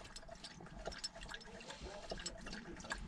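Water poured into a pet weasel's bowl outdoors on a warm day, a continuous splashing trickle with small gurgles, close and fairly faint throughout.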